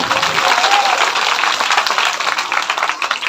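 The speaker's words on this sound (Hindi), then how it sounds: "इनके लिए एक बार जोरदार तालियों से अभिनंदन।" Dense, steady audience applause fills a hall during a Shrimad Bhagwat Katha religious gathering, loud and continuous from start to finish, with faint voices mixed in.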